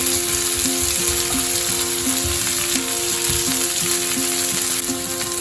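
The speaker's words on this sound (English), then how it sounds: "So let it fry for around 1 minute." Onions frying in a pan, a dense, steady sizzle that stays loud and even throughout, with a constant hum underneath and no talking.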